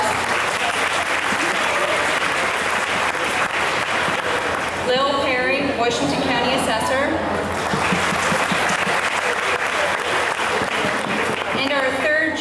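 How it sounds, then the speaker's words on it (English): Applause for a contest judge at a 1998 county fair queen contest, a dense crowd clapping that runs the whole time, loud and steady, while someone speaks over it through an amplified announcement. "Please give Terry a round of applause"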